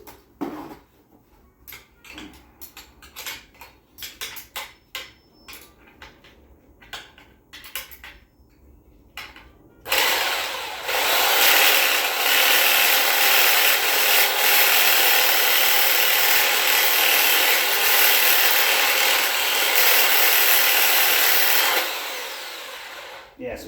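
A Sawzall reciprocating saw cuts during a custom high banker and trommel build, starting loud and continuous about halfway through after scattered quieter knocks and clicks, then running steadily to near the end.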